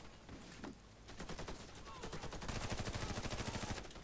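Rapid, steady automatic gunfire in the Warface video game during a helicopter attack, a fast regular burst building in loudness over a few seconds, with voices speaking alongside.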